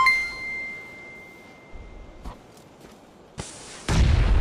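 A loud blast erupts near the end of a shooter video game round, following quieter gunfire pops and a ringing tone, with no voices over it.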